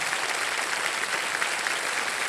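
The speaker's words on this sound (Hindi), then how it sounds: "तालियां बज जाएं" Steady, dense applause from a TV game show studio audience, loud and continuous throughout with no pauses.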